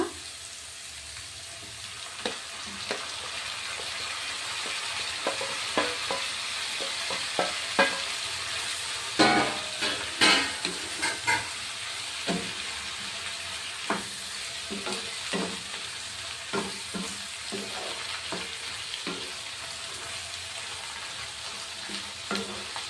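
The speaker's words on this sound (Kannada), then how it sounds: "ಈರುಳ್ಳಿ ಎಲ್ಲ ಚೆನ್ನಾಗಿ ಫ್ರೈ ಆಗಿದೆ. ಈಗ ಟೊಮೆಟೊ ಹಣ್ಣು ಹಾಕ್ಕೊಳ್ಳೋಣ." Chopped onions and tomatoes fry in a hot pan for a simple okra stir-fry. A steady close sizzle runs throughout, broken by repeated sharp spoon scrapes and clatters as the mixture is stirred.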